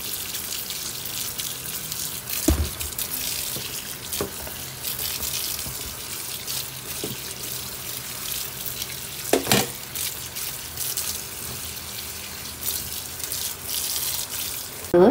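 Water runs steadily from a kitchen tap while vegetables are rinsed in the sink, a continuous close splashing stream broken by a few louder clatters and splashes.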